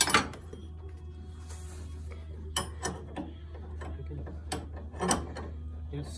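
A screw-type press tool is cranked to push out a ball joint on a 1966 Plymouth Barracuda, giving repeated ratcheting clicks and mechanical creaks over a steady low hum, close and moderately loud.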